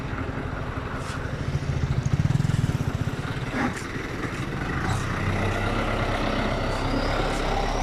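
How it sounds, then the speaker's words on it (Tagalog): Large truck rumbling past on a very narrow rural dirt road in the hills of Valencia, Bohol, a loud close engine drone with a throbbing surge, then steady idling-like rumble. "may malaking truck pala dito"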